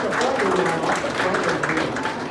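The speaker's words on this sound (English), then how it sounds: "Let's give a nice round of applause." An audience at a magic show for a scout pack claps for a volunteer stepping up, a brief dense patter of hands under a murmur of voices.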